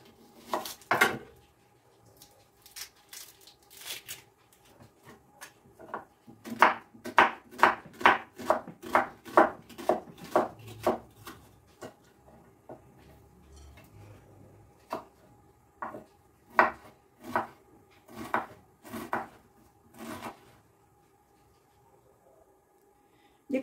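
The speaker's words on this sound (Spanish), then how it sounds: "mientras voy a picar la cebolla igual" A knife finely chops onion on a board in quick bursts of sharp, close taps, with pauses between runs of rapid strokes.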